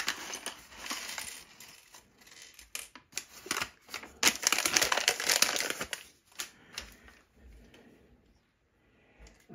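Plastic Lego Ninjago minifigure packaging being torn open and handled, with bursts of close crinkling, rustling and small parts clattering, busiest in the middle and fading to quiet near the end.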